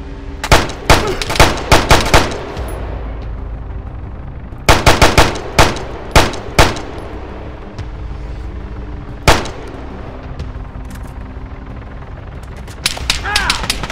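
ARMA 3 gunfire rattles out in rapid close bursts of sharp shots, a cluster at the start, another a few seconds later, then a lone crack and more bursts at the end over a low background hum.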